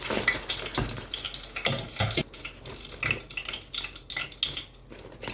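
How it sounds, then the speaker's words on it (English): Eggplant sizzles and hisses in a pan of hot oil over medium heat, a dense, steady crackle close up with occasional clinks from the pan. "Fry the eggplant over medium heat until it turns a light golden brown."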